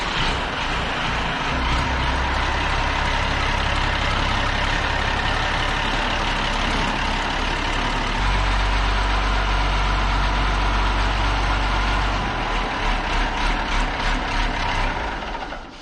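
A Ford TW20 tractor engine on a farm runs at a steady, loud idle for the whole stretch, a thick low rumble with a rough mechanical clatter that swells slightly partway through.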